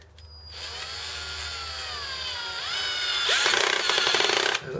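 A cordless drill drives small self-tapping screws into a Euro guest bed frame: a rising motor whine that spins up, holds, then climbs into a harsher, louder grinding burst before cutting off.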